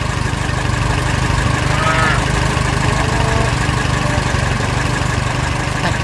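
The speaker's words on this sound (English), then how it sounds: "And he is driving a tractor." A tractor engine runs in a steady, continuous drone, loud and unbroken throughout.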